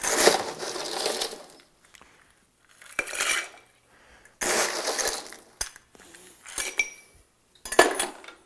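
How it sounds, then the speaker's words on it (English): Ice cubes clinking and rattling in a mixing glass as a Fairbank gin cocktail is stirred, several separate bursts of glassy clatter with quiet pauses between them, fairly close and unaccompanied by talk. "we're going to take and stir this drink up"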